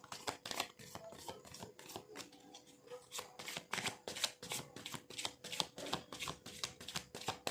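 Tarot cards being shuffled up close, a quick run of crisp riffling and slapping bursts in an uneven rhythm, with no talking over it.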